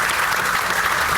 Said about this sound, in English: Should we give them all another round of applause?